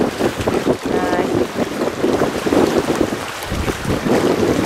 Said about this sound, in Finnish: Täällä edelleen tuulee aika voimakkaasti